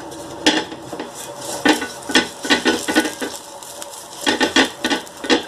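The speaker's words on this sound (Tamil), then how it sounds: "கல் நல்லா சூடானோன்னு வெங்காயத்தை இந்த மாதிரி நல்லா வந்து தேய்ச்சி விடுங்க" A hot, oiled cast dosa tawa being rubbed and seasoned with onion, with scraping, clattering contact sounds in uneven bursts and a light sizzle, close and fairly loud, with no talk.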